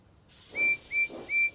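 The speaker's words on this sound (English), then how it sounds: "Percy whistled loudly." Percy, a toy Thomas & Friends engine, gives three short, shrill whistle blasts in a steady rhythm over a soft hiss.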